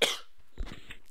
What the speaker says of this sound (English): excuse that cough if you heard it